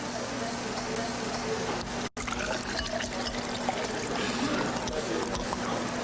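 Strong, high-gravity ale is poured from a chilled bottle, giving a steady gurgling trickle that runs for several seconds with a brief break near the start and faint background chatter.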